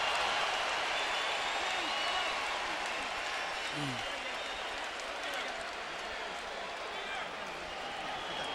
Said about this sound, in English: they cheer Baldomir for his effort.